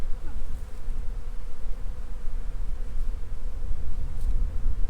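A dense mass of honeybees swarms over a frame during a spring backyard beehive inspection, producing a steady, close, continuous buzzing hum that fills the whole stretch without pause.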